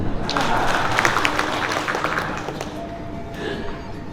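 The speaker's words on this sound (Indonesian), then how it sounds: "Tepuk tangan dulu." Applause in a Bali provincial legislature (DPRD) session greets an honored attendee, sustained clapping from a large seated audience that gradually softens, with a voice over an amplified hall system.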